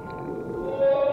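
A whale's low, moaning tonal call rumbles underwater near a boat, ending in a loud sustained note.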